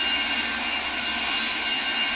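A small airplane's engine in Real Flight Simulator, a flight video game, drones steadily and loudly without pause while the aircraft flies itself, with no voices over it.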